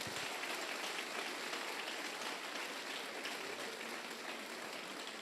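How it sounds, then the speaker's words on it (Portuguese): A church congregation applauds during a worship service, a dense, continuous patter of many hands that sounds distant and hissy, almost like rain, with no voices over it. "pode aplaudir a Jesus"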